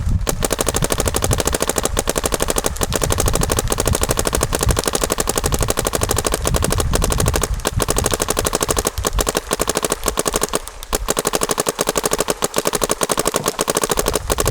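An Etha 3 paintball gun with a 77 tank and stock barrel fires a long, loud, steady stream of rapid shots, each pop close and sharp, continuing almost unbroken with only brief pauses.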